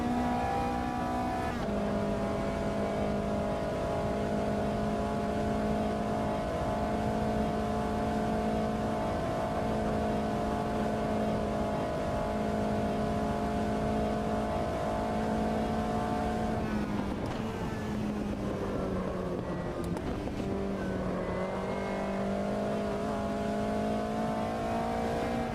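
Race car engine in the Automobilista 2 sim racing game during a hotlap, a steady high whining drone held near the rev limiter, easing off and dipping briefly before climbing again, with no voices.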